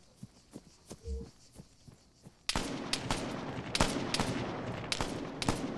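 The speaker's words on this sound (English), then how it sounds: "Where are we getting shot from? Oh, from behind?" Arma 3 gunfire at night in a street firefight, a dense burst of sharp, loud shots and rapid automatic fire erupting after a quiet stretch with faint footsteps.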